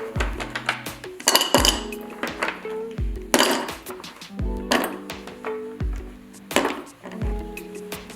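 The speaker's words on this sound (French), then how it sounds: "Le reste, je le mets dans une petite casserole." Chunks of chocolate clatter and clink into a small metal saucepan, a series of irregular sharp knocks and ringing taps close by.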